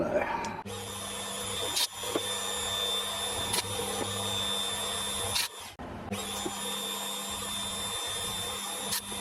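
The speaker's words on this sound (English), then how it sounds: "I got through all of them without breaking the drill" A drill bores holes through a metal part for a Webster engine, a steady whine running continuously with a brief break partway through, while someone speaks over it.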